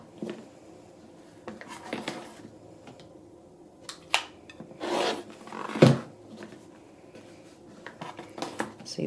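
Fabric blocks for a pillow cover being trimmed at close range, with several short rasping cuts in uneven bursts over quiet background noise and no talking.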